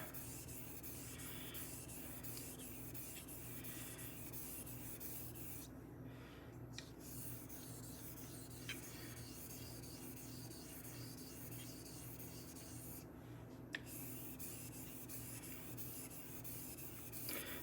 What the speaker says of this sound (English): Now I'm liking how the edge is meeting the stone, how it's pushing the slurry forward without any streaks.